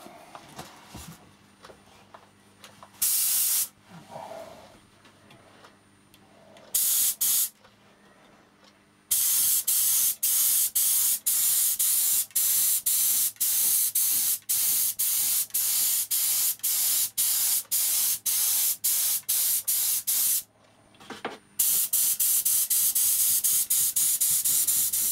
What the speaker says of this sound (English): So we'll just spray that black.